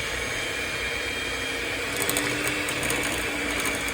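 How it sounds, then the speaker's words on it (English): An electric whisk on a very low speed mixes steamed syrup pudding batter, giving off a steady, close mechanical whirring drone that holds even for the whole stretch, with a slight rattle creeping in toward the end. "I'm just going to get the whisk now. It's on a very low speed."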